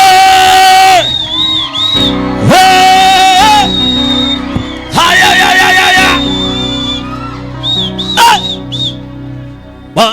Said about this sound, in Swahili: Piga kelele za shangwe mbele za Bwana.